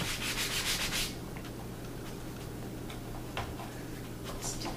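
Hands smooth fondant over a cake, making soft, faint rubbing and brushing strokes with occasional light ticks against a quiet background hum.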